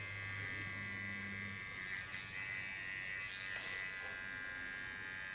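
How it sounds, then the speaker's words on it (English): A small electric hair clipper buzzes steadily and close while cleaning the hair contour, a constant thin whine with faint rubbing as it moves, no voices. "With my small clipper of Kiona. I first start with cleaning the contour"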